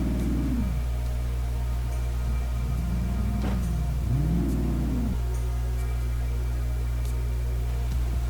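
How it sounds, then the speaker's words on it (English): The supercharged engine of a Ford Mustang GT in the BeamNG video game revs in several rising and falling pulls over a steady droning idle, loud and close throughout. "Now we're gonna do some pulls with the supercharger."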